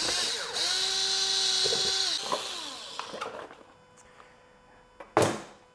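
A power driver spins T25 Torx screws out of the front fender of a BMW R1200RT motorcycle: a close, rising whine for about two seconds, then small clicks, a few clunks and a sharp clatter near the end.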